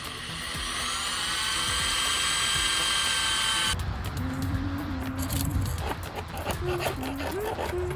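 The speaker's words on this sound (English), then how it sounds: "We're also using a drill to drill the holes out." High-pitched whine of an electric drill drilling holes in an aluminum boat transom, running steadily, then cutting off into clattering, intermittent drilling bursts with shifting pitch.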